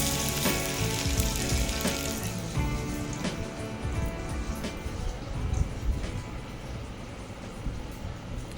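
Corn vada batter fries in hot oil with a dense, crackling sizzle, loud at first and easing slightly, with a few faint clinks of a spoon nearby.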